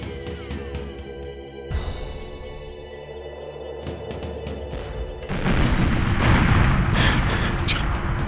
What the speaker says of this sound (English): Rolling explosions.